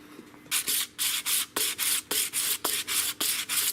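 A moped fork is sanded by hand, making a rhythmic series of about a dozen scratchy rubbing strokes, close and even-paced, with no talk.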